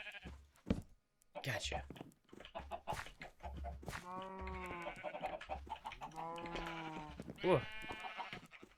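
Sheep bleat loudly and close at hand on a farm while animals are herded into a pen, several wavering bleats following one another, with a man's short spoken exclamations in between.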